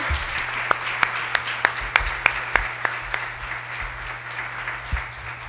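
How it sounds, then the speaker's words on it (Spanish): An audience gives a lecturer steady applause after a keynote at a national youth communication conference, with a few sharper claps standing out at a regular beat over a low hum. "Vamos a darle un aplauso fuerte al doctor José Antonio."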